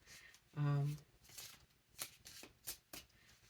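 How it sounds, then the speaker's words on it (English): Cards riffle and flutter in short bursts, with a voice talking over and between the shuffles. "I don't know if I'm gonna have to shuffle it this way."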